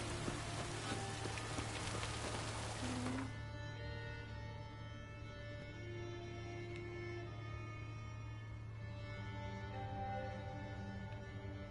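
Steady rain pours in The Witcher 3: Hearts of Stone, a dense, even hiss of drops on surfaces that fills the scene, with a low hum and faint tonal game sounds underneath and no voices.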